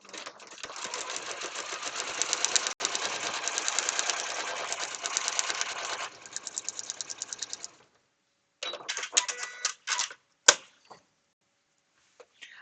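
A sewing machine stitches across the seam allowances of a small foundation paper pieced block: a long continuous run, a shorter burst, then a few brief stop-start stitches and clicks separated by silence.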